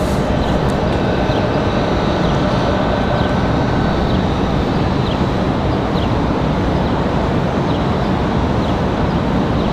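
Republic Airways airliner, flight 4804 bound for JFK, at Raleigh-Durham airport, producing a steady, loud jet engine roar that holds constant and dense throughout with no voices.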